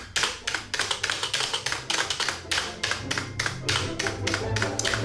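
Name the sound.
rattling mechanical keyboard keys being typed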